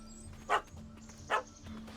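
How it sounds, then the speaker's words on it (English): Small dogs in The Witcher 3 video game give two short, sharp yaps about a second apart, fairly faint over a low steady game hum. "Don't know how to handle yappy little dogs?"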